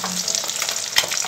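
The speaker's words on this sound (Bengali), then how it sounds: "এখানে হচ্ছে মাছ ভাজা" Katla fish frying in a pan, a close, bright sizzle with brief stirring or turning scrapes and one sharper clatter near the end.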